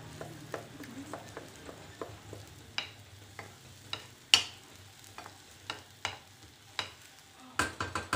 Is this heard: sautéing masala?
yes